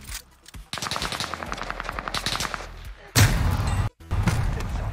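Rapid automatic gunfire from a weapon in Call of Duty Warzone, a steady stream of rounds with heavy kick, loud and continuous, breaking briefly before a second burst resumes.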